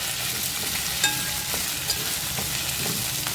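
Okra sizzles steadily in a pan with cumin in oil, a dense continuous frying hiss close by, with a couple of small clicks from stirring.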